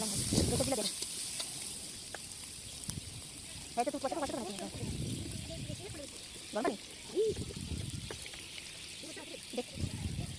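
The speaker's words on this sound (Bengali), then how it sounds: "পেঁয়াজ মরিচ দিয়ে দেওয়া হলো এখন হালকা করে একটু ভেজে নেব" Onion and chili fry lightly in a pan for vegetable noodles, a soft, steady sizzle with intermittent stirring and clinks, while a voice talks over it.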